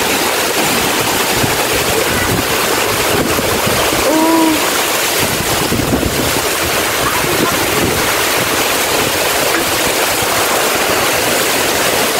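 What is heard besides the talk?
strong wind and heavy rain on a mountain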